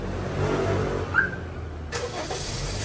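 A Honda City engine turns over and starts by remote voice command, a brief crank heard over a steady idle hum, followed by a sharp shift in the running sound partway through, with no talking.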